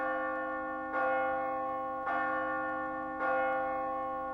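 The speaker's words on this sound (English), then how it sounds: "Through the air rang a large, crisp bell" A large, crisp school bell rings loudly in a quiet room full of desks, striking three times at a steady pace with long, ringing tones that sustain between strikes.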